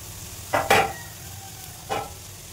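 Snake gourd pieces drop into a frying pan of hot oil with nigella seeds, chopped onion and chilli, setting off two short, bright bursts of sizzling over a low steady hiss.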